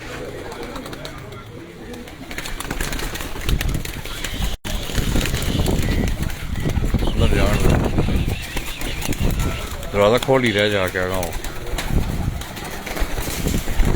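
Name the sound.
pigeons in a new loft setup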